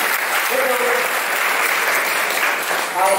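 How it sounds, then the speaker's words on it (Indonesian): Steady, full audience applause at a youth political school event in Tegal, dense and even throughout, with a few voices faintly audible beneath. "Tepuk tangan untuk beliau dulu."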